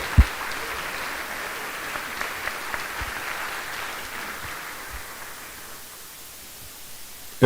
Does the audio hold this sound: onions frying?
no